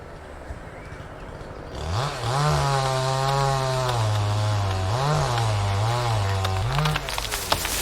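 A woodcutter's chainsaw bites into a large tree trunk between narrow fences; after a quiet start the engine roars in close and loud, holding a steady snarl with several brief revs and dips in pitch.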